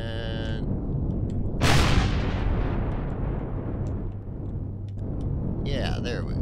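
A heavy weapon blast booms in the space game Empyrion Galactic Survival, a loud burst with a long rumbling tail that fades over several seconds, while faint game tones sound at the start and end.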